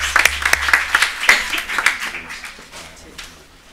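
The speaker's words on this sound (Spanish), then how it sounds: "Bueno, un aplauso." Applause at a diploma ceremony, with a few distinct sharp claps at the start that swell into brief group clapping and then taper off quietly.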